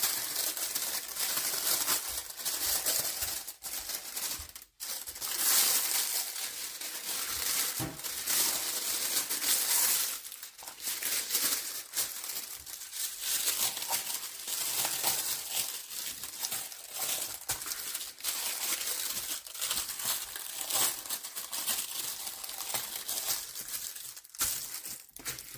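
Wrapping paper crumpled and crinkled by hand while unboxing a Winnie the Pooh canvas, a continuous close rustling with brief pauses, lasting a long stretch without talk.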